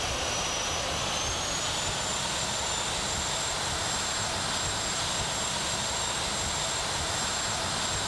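A steady, loud airplane engine drone from a plane flying in the Minecraft Immersive Vehicles mod, a constant broadband roar with a thin high whine holding through the whole stretch, without talk.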